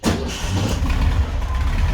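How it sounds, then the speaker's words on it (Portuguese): A Volkswagen Beetle engine, just fitted with a distributor, catches on the first try and settles into a loud, close, rough idle with a steady low rumble. "Pode ver que o carro pegou de primeira"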